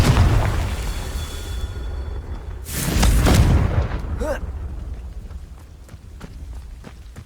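A Confringo spell explosion in Hogwarts Legacy, a loud booming blast bursting out about midway, followed by a sharp whooshing crackle and scattered impact thuds as the noise fades.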